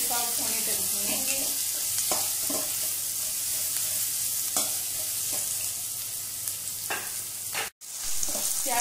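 Sliced onions sizzle and fry steadily in a pan for an Indian aloo parwal curry, with scraping stirs at intervals and a brief dropout near the end.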